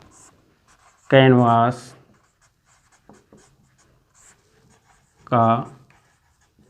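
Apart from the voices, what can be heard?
writing while noting a formula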